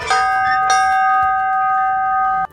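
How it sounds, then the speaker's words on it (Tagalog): A bell in Otaru rings loud and close, one clear struck tone sustaining with a steady ringing hum, then cut off sharply after a couple of seconds. "Oh, bell it. Ring it, Kurt."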